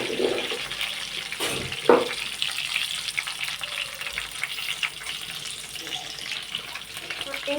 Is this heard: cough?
no